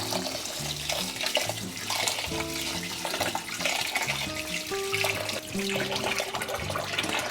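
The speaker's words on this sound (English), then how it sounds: "after rinsing the rice a few times, the water is gonna get clearer" Running water pours steadily over rice being rinsed for Persian tahchin, a continuous splashing flow with faint clinks and tonal rings layered in, close and fairly loud throughout.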